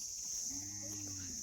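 A cow in a village among Maldhari herders gives one low, drawn-out moo over a steady high-pitched drone in the background.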